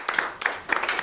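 A few people clap at an academic event at Harvard for the Hispania journal centenary, quick, sparse and irregular hand claps that sound close and modest rather than a full audience applause.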